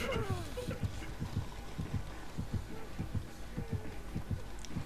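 Heartbeat warning in the Dead by Daylight game, a steady fast thudding double pulse, low and prominent, repeating regularly under a humming background.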